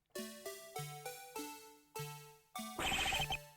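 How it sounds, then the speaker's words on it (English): In the Ace Attorney video game, a cheerful phone ringtone plays a bright, plinking electronic melody of separate notes, clean and alone, ending in a brief trilled burst. "This is my ringtone. I like that. What a cheerful ringtone."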